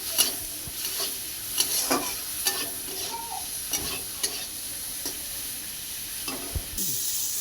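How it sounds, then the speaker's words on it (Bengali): Prawns seasoned with salt and turmeric fry in oil in a wok, a soft steady sizzle broken by scattered scraping stirs of a spatula, with no one talking. "চিংড়ি মাছটা ভাজা হয়ে গেছে,"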